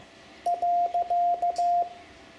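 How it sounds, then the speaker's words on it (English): A Morse code period keyed on CW with an iambic paddle: a clean, steady tone sounding three crisp dit-dah pairs in even rhythm, loud and close, with no voices. "This has always been the hardest one for me to send on CW using an iambic paddle"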